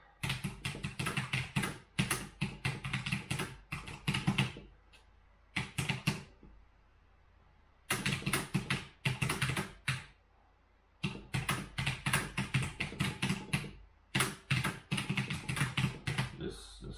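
Close, crisp typing on a computer keyboard comes in quick bursts of keystrokes separated by short pauses, with no voices over it.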